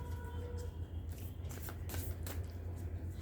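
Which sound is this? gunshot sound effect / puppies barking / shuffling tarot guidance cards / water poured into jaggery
shuffling tarot guidance cards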